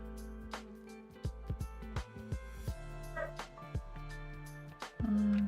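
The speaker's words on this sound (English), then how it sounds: "has started to bark" A dog barks and yips repeatedly in a home studio, short sharp barks at uneven intervals over steady background music, fairly close but not loud.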